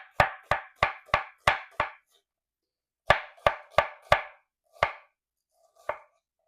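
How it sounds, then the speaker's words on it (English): A knife chops onions, garlic, red pepper and jalapeno on a board in crisp, close, rhythmic strokes: a quick run of six, a pause, then four more and two isolated chops. "I'm just going to chop up a few onions, garlic. I've got a red pepper and a jalapeno"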